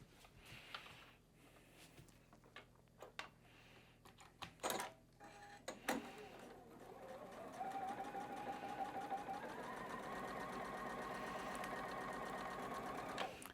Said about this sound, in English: We're going to sew down this line right now.